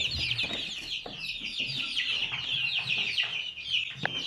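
Sussex chicks peeping in a brooder, a dense continuous chorus of high-pitched cheeps close by, with a few soft knocks underneath.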